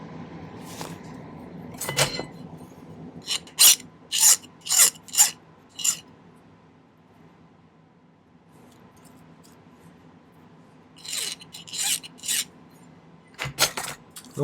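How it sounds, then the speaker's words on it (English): Pliers and fingers working a length of 14 gauge round wire straight, giving a series of short scraping, rasping strokes in two bursts separated by a quiet pause, close and fairly faint with no talking. "I find when I'm straightening wire, if I just hold it with the pliers and then use my fingers"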